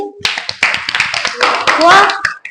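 Children clap during a maths lesson on division, a few sharp, uneven bursts mixed in with lively young voices talking close by.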